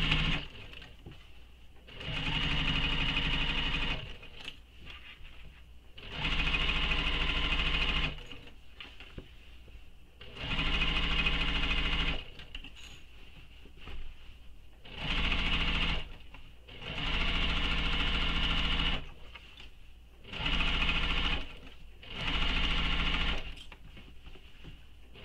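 A sewing machine runs a seam on a fabric shoulder bag in about seven close, steady bursts of rapid stitching, each lasting a couple of seconds with short quiet pauses between.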